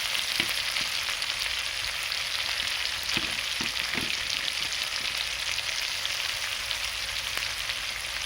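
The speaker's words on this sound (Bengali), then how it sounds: "সব মশলা এর সঙ্গে ভালো করে কষিয়ে নেব।" Cumin, ginger, onion and chilli pastes with tomato paste fry in a little oil for a rohu and potato curry, a steady dense sizzle running throughout with a few soft scraping stirs near the pan.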